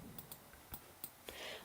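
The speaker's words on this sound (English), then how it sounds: "hit D on the keyboard" A few sharp, separate key presses on a computer keyboard, quiet and close, clicking at an uneven pace during a crafting session on a Brother ScanNCut.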